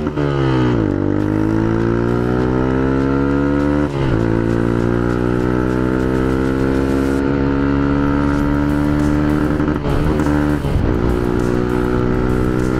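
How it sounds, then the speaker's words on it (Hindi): A motorcycle exhaust revs loud and close, rising and falling through repeated throttle blips with a steady droning harmonic tone throughout. "सुना क्या एग्जॉस्ट"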